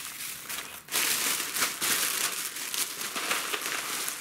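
A bag full of small paper seed packets rustles and crinkles continuously up close, a dense papery scratching with no talk over it.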